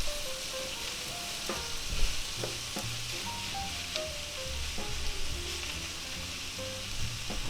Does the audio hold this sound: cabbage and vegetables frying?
yes